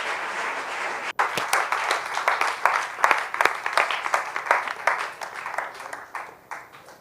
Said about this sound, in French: je demande un applaudissement pour tous ces projets